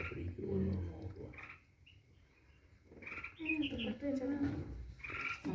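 Baby birds and their parents chirp in short, high, irregular bursts, faint and somewhat distant, with a soft human voice in the background.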